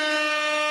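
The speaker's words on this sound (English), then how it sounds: "We're getting a lot of air horns this show before the show" A single short air horn blast during a podcast, bright and brassy, steady and loud for under a second before cutting off abruptly.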